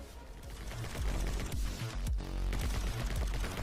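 Rapid, dense gunshots from the stylish action shooter My Friend Pedro crackle in quick succession, a busy, continuous barrage of pops over a steady low rumble.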